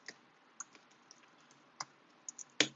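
Sparse, quiet keystrokes on a computer keyboard while coding a SwiftUI watchOS weather app, with isolated taps spaced apart and a sharper, louder clack near the end.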